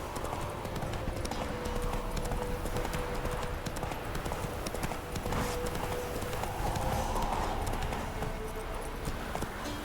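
Roach, a horse in The Witcher video game, gallops steadily with rapid, even hoofbeats throughout, set over a dense game soundscape with faint voices in the background.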